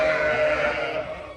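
A sheep in a farm pen gives one long, loud, wavering bleat close by, trailing off toward the end with no talk over it.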